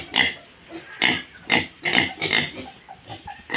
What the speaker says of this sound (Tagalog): Kumain na po ulit ang mga baboy.